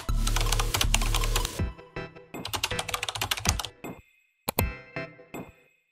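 Rapid typing on a computer keyboard, a dense flurry of close key clicks that breaks into shorter bursts and separate taps, with short pauses between them.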